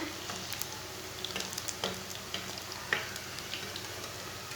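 Chapli kabab frying in a pan while being flipped over, a continuous soft sizzle of oil with a few sharp scrapes and taps from the turner, fairly quiet and close.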